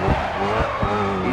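A race car drifts in the Grid Autosport video game with a loud, sustained tire squeal over a steady engine roar, all heard up close.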